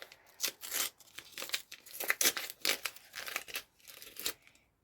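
A heavily taped handmade paper surprise is pulled open, with close crinkling and crackling paper plus short tearing rasps in uneven bursts, alone and fairly quiet.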